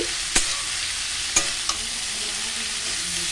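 A constant frying hiss fills the wok of potato and papaya, broken by three sharp scraping knocks as a spoon stirs the contents.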